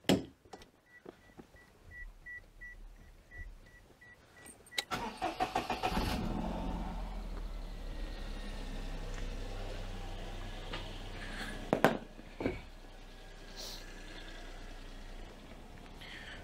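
A Daihatsu Charade's engine cranks and catches at about five seconds, then settles into a steady, close idle with a brief rev near twelve seconds; a few faint beeps sound before the start.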